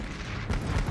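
Tank artillery fires on civilians in an anime battle scene, with heavy booms landing around the middle and near the end of one second of rumbling, continuous background noise.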